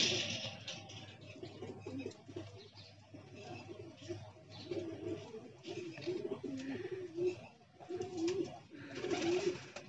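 A flock of pigeons coos steadily at close range, the soft throaty warbles overlapping continuously with no pause and occasional louder swells.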